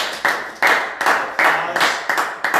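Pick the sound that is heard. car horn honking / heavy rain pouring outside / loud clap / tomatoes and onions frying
loud clap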